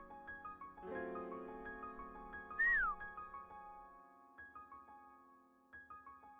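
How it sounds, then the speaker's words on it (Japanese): A person whistles with the mouth, giving one short falling note that rises above soft, plucky background music, then the music plays on alone. "口笛はこう。"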